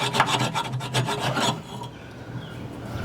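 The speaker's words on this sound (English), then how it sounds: "I'm just trying to get some of that burr off." A hand file rasps burrs off a worn, slotted metal shackle bracket on a fifth-wheel trailer, making rapid, close, gritty strokes for about a second and a half before it fades to a quiet background hum.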